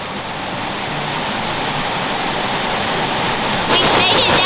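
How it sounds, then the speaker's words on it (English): Upper Souls Creek Falls, a 60-foot drop waterfall in North Carolina, roars as a loud, steady broadband rush of falling water close by, with no break throughout. "It is a beautiful 60-foot drop waterfall."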